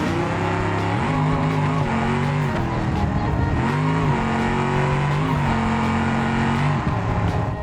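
A 1878-horsepower drag car in BeamNG roars down the drag strip, its engine note climbing through repeated gear pulls with brief dips between shifts, loud and continuous throughout.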